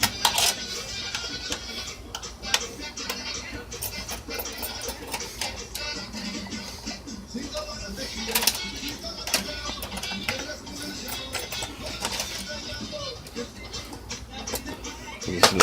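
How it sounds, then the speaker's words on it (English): Screws being loosened while a PS4 console is taken apart: small metallic ticks, clicks and rattles of a screwdriver and loose parts, up close and irregular, with a few faint voice sounds. "Loosen up the rest of the screws."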